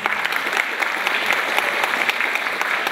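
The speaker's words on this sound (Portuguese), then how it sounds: "Professor Dante Pinheiro Martinelli, diretor da FEA USP Ribeirão Preto, do qual peço uma salva de palmas." Steady applause from an audience at a university event, honoring the director of FEA USP Ribeirão Preto, Professor Dante Pinheiro Martinelli; the even, continuous clapping fills the hall at moderate loudness and nobody speaks over it.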